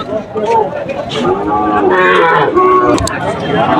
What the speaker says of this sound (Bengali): ভাইজান কিন্তু আরেকটা চমৎকার বকনা গরু নিয়ে আসছে দেখেন তারা বাজারে